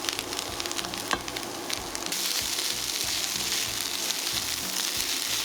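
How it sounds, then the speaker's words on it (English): Vegan meat and diced, precooked potatoes fry in a pan with a steady, fairly loud sizzle that swells after the potatoes go in, with occasional stirring clatter and no voices. "Now that you cooked your meat, you're gonna add your potatoes that you diced and cooked earlier."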